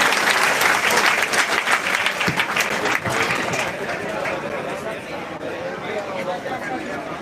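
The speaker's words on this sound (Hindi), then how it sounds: "भाई के लिए भाई जोरदार तालियों से जोरदार तालियां।" A crowd at a farmers' gathering at Khatkar toll plaza breaks into loud, sustained applause that gradually tapers off, with voices heard over the clapping.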